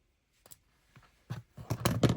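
Scissors snip through paper for a junk journal craft, starting with a couple of soft isolated clicks and building into several louder, close crunching cuts.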